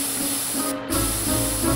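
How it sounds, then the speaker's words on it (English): A few hissing squirts from an aerosol candy spray, two steady bursts in quick succession, close and fairly loud with no talking. "Now for a few squirts of my sticky licky spray."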